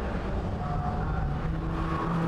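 MINI Cooper S race cars battling at Oulton Park, a loud continuous engine roar with steady droning tones from several cars close by, no voices heard.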